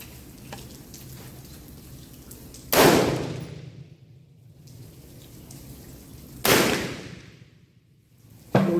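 Gunshots from a Swedish rolling block rifle firing cast-bullet reloads in low light: two loud, sharp blasts a few seconds apart, each ringing out with a long decaying echo, and a third shot starting right at the end.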